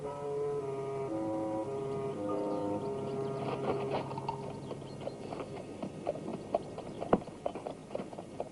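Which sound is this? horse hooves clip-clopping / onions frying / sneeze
horse hooves clip-clopping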